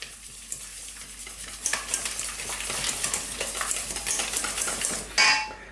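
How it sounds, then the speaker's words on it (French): Cheese being whisked with whole liquid cream for a Bavarian-style cake, with fast, rhythmic whisk strokes against a bowl building in intensity and ending with a brief sharp clink. "Alors, on fouette, on mélange comme il faut."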